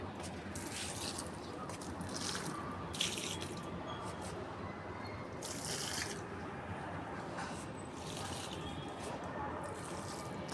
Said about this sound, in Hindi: इस पानी को हम और पौधों में डाल देंगे